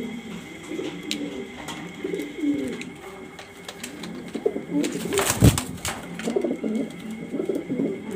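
Black pigeons coo low and soft against a constant background hum, with a brief louder rustle or flutter partway through.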